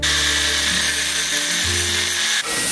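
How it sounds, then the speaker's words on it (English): Power grinder smoothing a weld on a custom steel roll cage for an RX7 convertible, a continuous high whine with shifting pitch as the disc bites the metal, then a brief dip near the end. "Let me grind it down."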